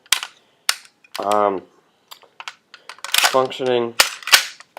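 A G&P M4 airsoft rifle being charged and fired: crisp mechanical clacks and a snappy shot, close and loud, with someone talking in between.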